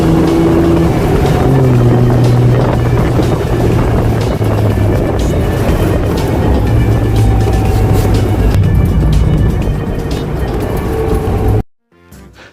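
A Triumph TR6 sports car drives steadily with a loud, continuous engine drone and road rumble throughout, cutting off abruptly near the end.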